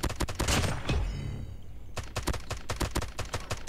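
Rapid tap-fired gunshots from a Holger 26 in COD Mobile, sharp loud bursts in quick runs with a brief pause in the middle before the shots resume.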